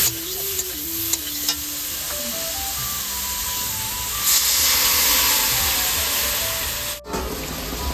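Ground cumin and coriander fry in a pan with chopped potato, eggplant and beans, a dense continuous sizzle and hiss with scraping stirs over it, close and fairly loud, with a faint tonal whine drifting underneath.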